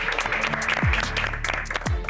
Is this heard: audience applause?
yes